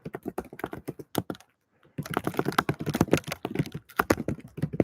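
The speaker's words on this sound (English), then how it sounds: "I'm just typing and then I'll switch tabs." Rapid, irregular clatter of fingers typing on a computer keyboard, close and crisp, in quick bursts with a brief pause partway through before the keystrokes resume.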